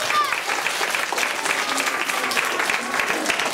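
Applause at a school festival presentation, with a lively burst of clapping from parents and children in a hall, mixed with crowd murmur and a few higher children's voices calling out.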